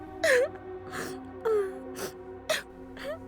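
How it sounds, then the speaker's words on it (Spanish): A woman wails in the distance in an eerie horror setting, giving repeated rising and falling sobbing cries and gasps with breaths between them over a low steady hum. "escucharon el llanto de una mujer"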